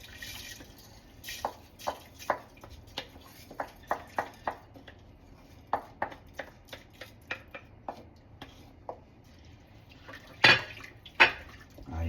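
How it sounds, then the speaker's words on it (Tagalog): Rice for arroz caldo drops into a pot of water in a home kitchen, giving a scattered series of small ticks and plops, irregular and fairly close, with a couple of louder knocks near the end. "Hulog na rin natin yung bigas."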